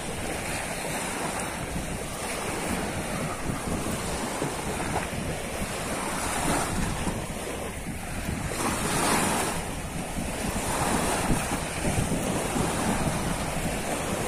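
Ocean waves roll in and break on a shore, loud surging washes in slow repeated swells with wind rushing across the microphone and no talking.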